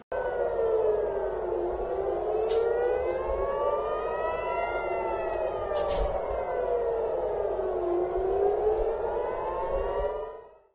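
An air raid siren in central Israel during an Iranian missile attack wails loudly and steadily, its pitch slowly rising and falling in long sweeps, with no other sounds around it.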